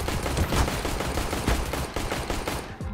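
Rapid bursts of video game gunfire, dense overlapping shots in a near, loud, continuous volley.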